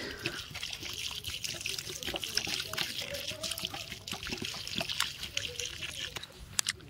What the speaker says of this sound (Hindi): अब अब आज पानी देने की बारी